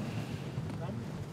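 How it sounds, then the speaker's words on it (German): Arctic wind rising outdoors buffets the microphone as a low, steady broadband rush, fairly faint and continuous over a second or so. "so wie der Wind gerade aufzieht"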